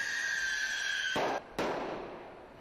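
Rocket skates firing in a Jackass stunt, a loud hissing roar of thrust that cuts out sharply, then one more abrupt burst of rushing blast that fades away.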